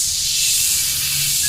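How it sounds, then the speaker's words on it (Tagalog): Spray nozzle hissing in the Roblox Brookhaven game, a steady loud broadband hiss lasting about a second and a half with no talk over it. "Sana gumana to pang spray na to"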